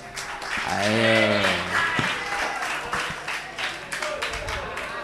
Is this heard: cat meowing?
no